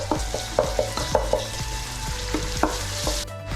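Ginger and garlic paste stirred into vegetables in a hot pan for veg pulao, a spoon scraping and knocking in an uneven rhythm over a steady sizzle, close by with no voices.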